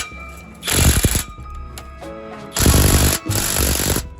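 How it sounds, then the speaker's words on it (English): Loud, harsh bursts of a pneumatic impact tool rattle in two long runs while a muffler is taken off a single cab diesel truck, with a quieter mechanical hum between them and no talking. "I'm just removing the muffler and then we'll do some more measurements."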